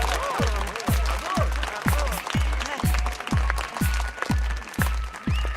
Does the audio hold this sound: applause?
yes